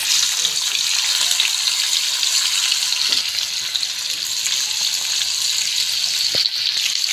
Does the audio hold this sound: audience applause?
no